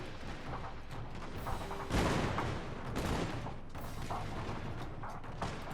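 Gun volleys in Shogun 2 Total War, with a loud crackling burst of massed musket fire and smaller spreads of shots, rumbling distant battle noise underneath.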